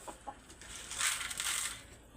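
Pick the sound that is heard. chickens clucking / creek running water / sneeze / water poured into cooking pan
chickens clucking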